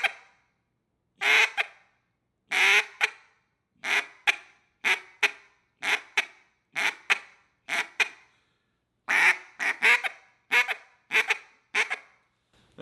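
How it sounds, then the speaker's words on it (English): Hen quacks blown on a duck call in a bouncing hen cadence, each quack followed by a quick tick, repeated about a dozen times in a loose rhythm, loud and close with no talk. "And then start to slowly add in that tick after."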